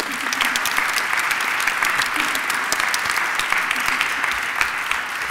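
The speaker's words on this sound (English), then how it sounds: "Can we give them all a round of applause?" A conference audience gives staff a sustained round of applause, steady and full throughout, with a faint voice mixed into the clapping.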